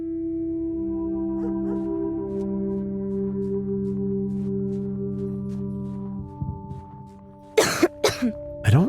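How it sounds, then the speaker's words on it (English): A character coughs in the Torn Away video game, several harsh coughs bursting out near the end over a sustained droning music score. "I don't like the sound of your cough."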